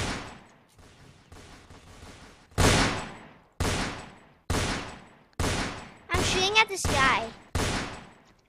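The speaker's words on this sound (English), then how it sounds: "This sniper loading so slow, but it's so strong" A sniper rifle fires in the Roblox Fortnite Simulator video game: after some quieter rustling come about six loud, booming shots spaced roughly a second apart, each with a sharp attack and lingering tail.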